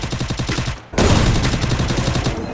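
Rapid bursts of gunfire, close and loud, firing in fast repeated shots, then a brief gap before another dense volley continues.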